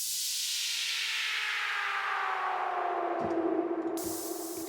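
Synth white-noise note with reverb and delay glides smoothly downward in pitch, then a brief break and a short rising return, sustained and fairly loud with no talking.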